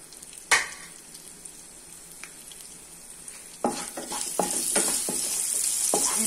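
Cinnamon, black pepper, ginger and garlic sautéing in a pan for cashew chicken: a sharp utensil knock, a quiet pause, then sizzling swells as repeated close stirring scrapes rasp across the pan.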